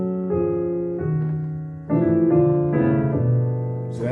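Gospel ending on piano: a run of sustained chords that step upward, then a full final chord where a low left-hand cluster sits under the right-hand voicing, played alone and close, ringing out at the end.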